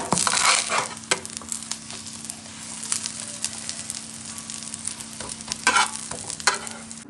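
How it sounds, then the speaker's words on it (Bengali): An egg omelette with chopped onion fries in a pan, giving a steady close sizzle broken by several sharp scraping stirs, with no talking. "এভাবে আমি আমলেট করে নেব।"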